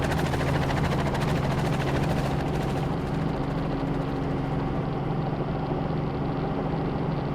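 A helicopter hovering, steady loud rotor thrum and turbine whine throughout, heard from inside the cabin, continuous with no speech.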